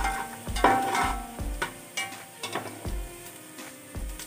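Cumin seeds and dried coriander hit hot oil over golden fried onions for vegetable pulao, giving a soft sizzle broken by repeated scraping stirs of a spoon in the pan, no voices.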